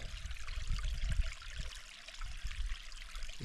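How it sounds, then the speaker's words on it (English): Water pours steadily over a small spillway outdoors, a continuous rushing trickle with some gurgling texture, fairly close and alone without voices. "But, anyways, I got a nice spillway here."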